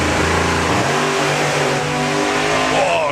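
Loud hot rod drag racing engine roaring close by during a run at a hot rod drag event, a sustained revving blast with the pitch climbing and then easing off as the throttle is backed out.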